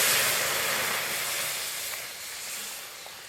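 Lentils dropped into hot oil with a five-spice tempering and bay leaf burst into a loud, broad sizzle that slowly eases, steady hissing throughout with no talking.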